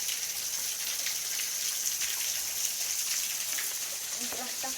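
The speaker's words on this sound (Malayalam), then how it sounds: "ഇതിൻ്റെ അകത്തുനിന്നെല്ലാം വെള്ളം ഒഴുകി വരുന്നതാണ് കേട്ടോ" Water flows and drips inside a cave, a continuous hissing rush that stays even throughout, with a faint voice briefly rising near the end.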